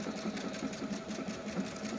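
A PFAFF Performance Icon sewing machine stitches backwards at a slowed speed, giving a fast, even mechanical rattle with a steady pulsing rhythm, close and fairly quiet, with no voices.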